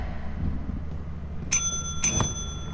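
Two bright bell rings inside the video game Lethal Company, about half a second apart, each with a sustained metallic ring that fades over a low steady background rumble, with no talking.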